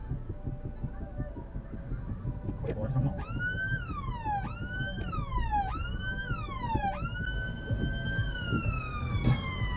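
An ambulance siren wails, rising and falling several times in a repeating pattern, then holds a steady tone, heard over constant Nottingham street traffic rumble and muffled voices.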